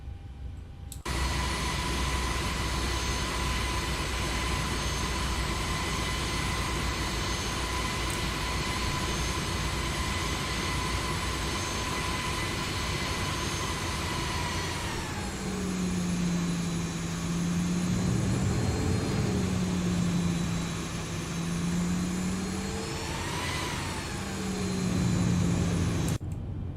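Boeing 737-800 jet engines in the X-Plane 11 simulator, a steady loud whine and roar that holds, then shifts pitch midway as thrust changes, with tonal sweeps rising and falling over a constant rumble.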